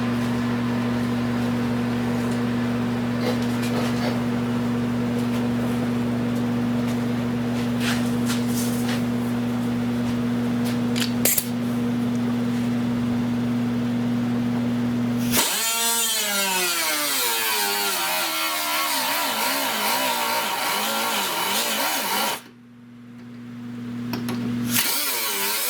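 A power tool cuts rusted metal off the corner of a car door, a loud, steady mechanical whine that runs throughout, wavers and shifts in pitch partway through, and cuts off briefly near the end.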